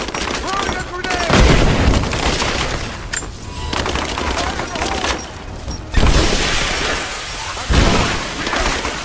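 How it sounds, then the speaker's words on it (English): Grenade blast and gunfire in the Rise of the Tomb Raider video game, with repeated loud booms and bursts of rapid shots among shouting soldiers' voices, several heavy impacts standing out through a dense, continuous firefight. "Throwing a grenade."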